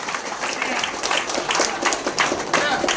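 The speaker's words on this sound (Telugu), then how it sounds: "బిగ్ క్లాప్స్ కొట్టండి, చప్పట్లు కొట్టండి" An audience gives dense, continuous clapping for honoured students at a Yadav community merit award ceremony, loud and sustained from start to finish.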